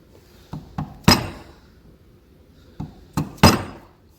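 Wooden mallet tapping a chisel into timber to cut a hinge recess: two groups of three sharp knocks, each group growing louder, close and dry with short gaps between, with no talking.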